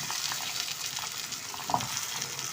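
Turnips dropped into hot oil with black cardamom, a cinnamon piece and cloves, giving a steady close frying sizzle with a stir or clink near the middle; quiet and without voices.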